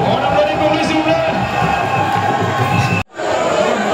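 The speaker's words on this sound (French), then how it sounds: "On applaudit pour lui, s'il vous plaît." A crowd at a Cameroon Unity Day celebration in Gabon cheers loudly for a football goal scorer. The dense, steady roar cuts out abruptly near the end and then resumes.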